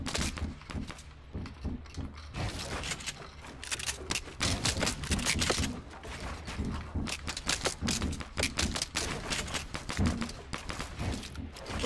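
Gunfire in the video game Fortnite crackles in rapid bursts of sharp clicky shots, dense and continuous with brief pauses, loud and close.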